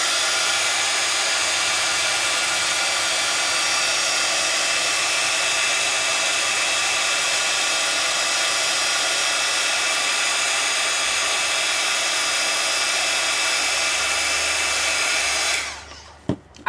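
A hair dryer blows hot air onto a rubber stamp on a wooden block to loosen it, a loud, steady close whoosh that runs unbroken before cutting off abruptly with a small click near the end.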